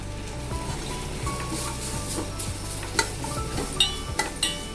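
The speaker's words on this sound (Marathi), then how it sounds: "बारीक पीस केलेला आहे मी इथे एकत्र तळायचं जेणेकरून हे पटकन नरम होऊन जातं शिजून जातं" Grated sweet potato frying in a pan for a fasting-day kheer gives a soft, close sizzle. Light stirring scrapes run through it, and a few sharp utensil clinks land near the end.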